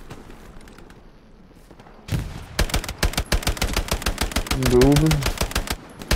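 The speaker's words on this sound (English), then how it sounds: "you want to know how to shoot a fucking grease gun" An M3 grease gun submachine gun fires in the Hell Let Loose combat game, loud rapid bursts of automatic fire cutting in after a quieter opening, with a brief spoken word near the start.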